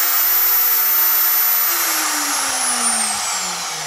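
An X-Carve DIY CNC router spindle runs steadily as a high, whining motor tone, close and loud, whose pitch gradually drops as it winds down near the end.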